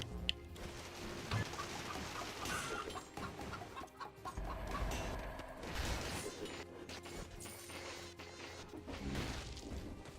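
Chickens cluck and squawk in the Dead Cells video game, mixed with clattering, crashing game effects and mechanical sounds in a busy, continuous stretch.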